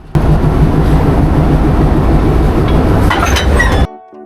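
A shuttle train's locomotive shifted from the rear to the front and coupled on at Goalondo Ghat, giving a loud, steady rumble with metallic clinks near the end before the sound cuts off abruptly.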